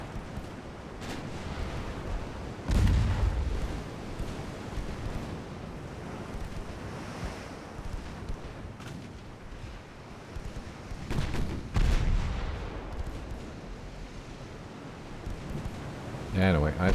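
Naval gunfire from warships in a 1893 Ottoman campaign strategy game, with two heavy booming blasts standing out over a constant roar of wind and surf, while someone talks over it.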